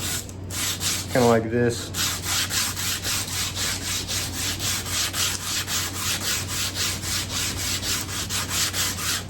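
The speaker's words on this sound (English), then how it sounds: "And you can really smooth it out in a hurry with 80 grit." A wooden acoustic guitar neck is worked by hand with 80 grit sandpaper in steady back-and-forth strokes, an even rhythmic scratching that runs nearly throughout, with a brief spoken phrase near the start.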